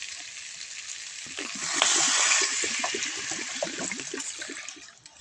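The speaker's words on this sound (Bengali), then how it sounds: "জল দিয়ে দেব।" Water pours into a cooking pot of frying spices and ground green chilli, making a loud hissing, bubbling sizzle that swells midway and then settles into a steady simmering crackle.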